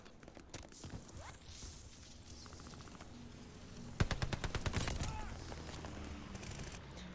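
Rapid machine pistol gunfire in the Call of Duty Vanguard video game, with scattered shots early on and then a dense fast burst of automatic fire midway, amid game ambience and movement noise.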